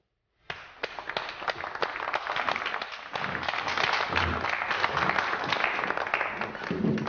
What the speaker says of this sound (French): Je vous demande d'applaudir chaleureusement notre nouvelle associée, Karine Bise.